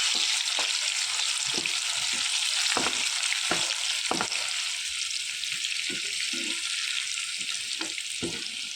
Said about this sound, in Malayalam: ഇത് ബ്രൗൺ കളറായി വരാൻ തുടങ്ങുമ്പോൾ നമുക്കതിലേക്ക് ഉണക്കമുന്തിരിയും കൂടി ചേർത്ത് കൊടുത്തിട്ട് ഒന്നിച്ച് കോരിയെടുക്കാം